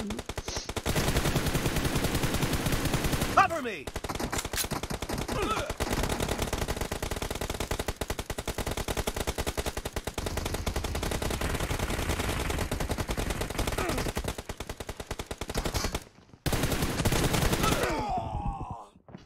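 Rapid, relentless automatic gunfire from the video game PUBG Mobile rattles almost nonstop, broken by a couple of brief pauses, with occasional louder bursts and a final short volley.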